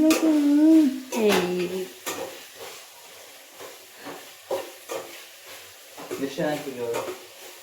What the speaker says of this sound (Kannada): ಫುಲ್ ಚಂದ ಫ್ರೈ ಮಾಡು